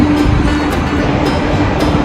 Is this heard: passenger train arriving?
yes